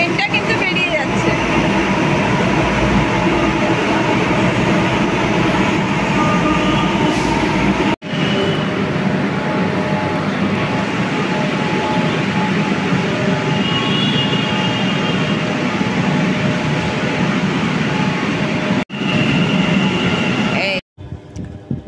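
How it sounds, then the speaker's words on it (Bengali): A Kolkata Metro train pulls out of its last stop, a loud continuous rumble and whine of wheels and motors filling the whole stretch, with brief dropouts near the end. "লাস্ট স্টপেজ কিন্তু ট্রেনটা কিন্তু বেরিয়ে যাচ্ছে।"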